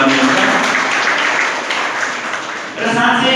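Parents in an audience give a loud, sustained round of applause, a dense wash of clapping that fills the whole stretch, with a voice speaking over it at the start and end.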